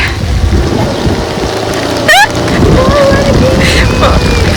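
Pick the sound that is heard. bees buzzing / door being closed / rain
rain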